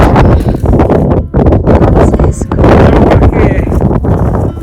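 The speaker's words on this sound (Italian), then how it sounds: "A parte il vento gelido" Cold wind on the summit of Monte Piana in the Dolomites buffets the microphone with constant loud, rough noise while a person speaks briefly over it.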